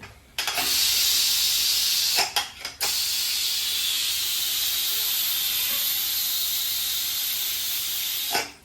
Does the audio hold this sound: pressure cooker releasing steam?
yes